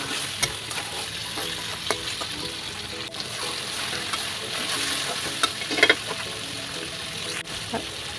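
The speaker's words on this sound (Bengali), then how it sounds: "নেড়ে ছেড়ে কষিয়ে নিতে হবে।" Chicken pieces sizzle in a pan with cumin and coriander powder as they are stirred and fried, steady crackling sizzle broken by scraping spoon strokes and occasional clinks against the pan.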